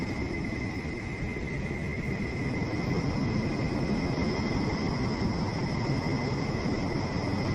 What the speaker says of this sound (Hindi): ये जो अभी आप सुन पा रहे हैं, ये नेपच्यून की आवाज है।